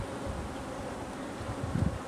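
Honey bees buzz steadily at an open hive after a swarm, a dense continuous hum close by with a brief louder swell near the end.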